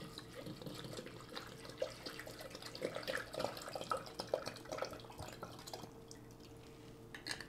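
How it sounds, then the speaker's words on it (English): Water runs into an Instant Pot while a tonic with turmeric and honey is being made, a faint steady splashing trickle with small drips and clinks, close by and without talk. "And then I'm gonna add 6 cups of water."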